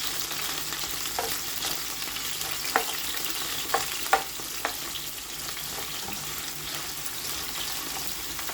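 Onions frying in a pot, a steady close sizzle with occasional sharper pops and scrapes as they are stirred, continuous and fairly soft with no talking.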